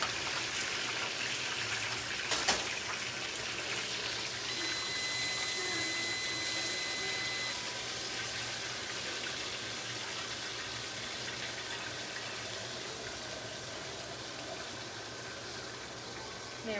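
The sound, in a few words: pouring off cooking oil from a pan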